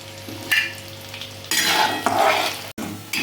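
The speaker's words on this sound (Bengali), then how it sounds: "আমি এখন অল্প করে এইভাবে ভেজে নিব।" Baby corn frying in hot oil, crisping restaurant-style: a steady sizzle that swells louder midway as more pieces go in, with a brief pan clink and a short drop near the end.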